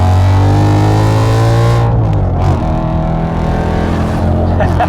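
A naturally aspirated Ferrari V8 in a BMW M3 with a manual gearbox revs hard and loud up close in second gear, pitch climbing steadily, then drops briefly at a shift before pulling again.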